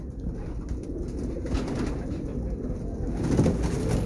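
Pigeons at a kabootar bazi pigeon show coo steadily, a low throaty rolling murmur from several birds nearby over a busy background.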